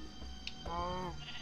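A sheep in the Minecraft video game gives one short wavering bleat, moderately loud over a steady background game hum, with a faint click just before it.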